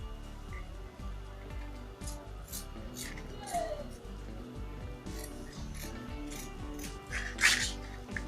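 Scissors snip through fabric to cut the neck of a bubu kaftan, repeated close crisp cuts with a little rustling of cloth.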